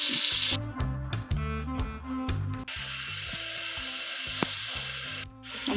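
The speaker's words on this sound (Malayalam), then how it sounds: "ഇനി നമുക്ക് അരിഞ്ഞു വെച്ചിരിക്കുന്ന ഉള്ളി ഇട്ട് കൊടുക്കാം." Chopped onions with cumin sizzle in a hot pan for tomato rice, a steady frying hiss broken by short metallic scraping strokes.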